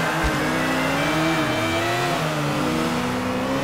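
A car engine revs hard during a street race in Grand Theft Auto IV: The Ballad of Gay Tony, pitch rising and falling through gear changes, loud and steady with no voices.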